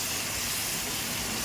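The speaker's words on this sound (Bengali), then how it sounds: "তো এটা একটু আদা রসুন আর পেঁয়াজের মধ্যে একটু ভেজে নিচ্ছি" Ginger, garlic and onion frying in a pan give a loud, continuous sizzling hiss, close and steady throughout.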